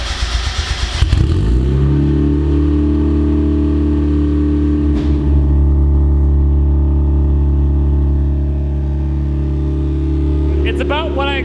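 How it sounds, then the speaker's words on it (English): A turbocharged Mazda Miata with a custom exhaust revs up loudly and holds a steady, throaty exhaust drone for several seconds, with a brief blip partway and another rev near the end. "we're ready to hear this exhaust"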